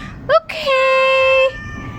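A cat gives a short chirp and then one long, clear, drawn-out meow close by, with a little background noise after it.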